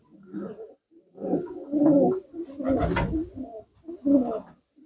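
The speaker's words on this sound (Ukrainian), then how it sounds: "Така птиця, як голуби." Domestic pigeons in a dovecote coo in soft, rounded bursts of several low calls, close and fairly loud, with brief pauses between phrases.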